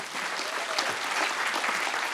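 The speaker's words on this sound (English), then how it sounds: "Offer another round of applause" An audience at a Stanford University talk applauds steadily, a continuous, evenly textured wash of many hands clapping at moderate volume with no talking over it.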